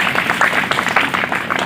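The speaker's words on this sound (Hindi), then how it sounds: "एक बार मुझे ताली बजा के आदेशित कर दीजिए" Audience applause at a Hindi comedic poetry recital, a short burst of dense, even clapping from a crowd, close and fairly loud.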